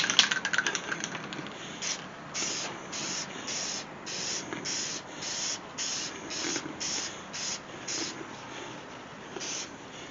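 A spray gun applies clear coat to a guitar, giving a close hissing spray in a run of short regular bursts after an opening stretch of steady spraying.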